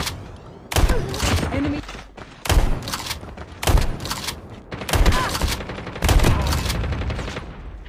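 Bursts of video game gunfire in a shooter match, several loud volleys of rapid shots separated by short pauses, with faint talk in the background.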